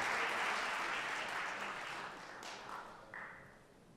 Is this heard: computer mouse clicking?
no